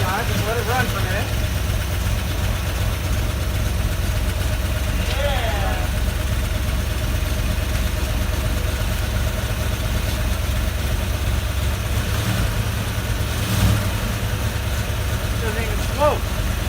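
A 1972 Ford Bronco engine runs steadily after sitting for 30 years, a loud continuous low idle rumble throughout, with brief faint voices in the background.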